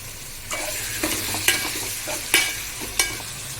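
Chicken pieces stirred in a frying pan for chicken gravy, with green chillies, curry leaves and turmeric already in the oil: a steady sizzle broken by several sharp scraping stir strokes, close and clear, no talk.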